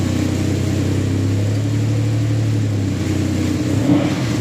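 A Lamborghini Diablo VT engine revs loudly and close, a deep steady growl that holds, then shifts as the throttle varies, with no talking over it.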